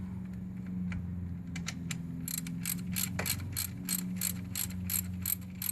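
Aluminum oil pan drain plug being loosened with a ratchet, giving a steady series of rapid clicks over a low mechanical hum, close and fairly quiet.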